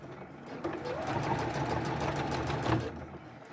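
A sewing machine stitches a fabric face mask in a short burst, its rapid even needle chatter running for about two seconds before stopping, close and clear.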